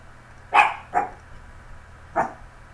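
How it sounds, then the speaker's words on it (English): A dog barks loudly three times, two sharp barks close together followed by a third after a pause, near and alone over a faint steady hum. "My dog is really loud and stupid."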